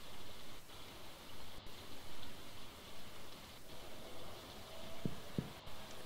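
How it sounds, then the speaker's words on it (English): Steady rain falls in the Stardew Valley farming game, an even hiss of rainfall running throughout with a couple of faint clicks near the end. "It's raining out"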